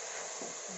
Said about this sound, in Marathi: तर साखर टाकल्यानंतर परत थोडेसे परतून घ्यायचे आहे छान